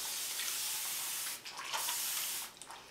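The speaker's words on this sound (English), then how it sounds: "I'm going to take this first and wet it just a little bit." Water spraying to wet a section of curly hair, a steady close hiss of fine mist with brief louder bursts partway through, no talking.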